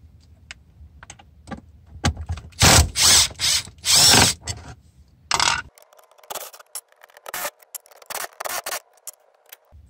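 Ratchet removing 8mm bolts from a Mustang shifter boot on the transmission tunnel, quick close clicking bursts mixed with louder bursts of driving, then sparse clicks and rattles.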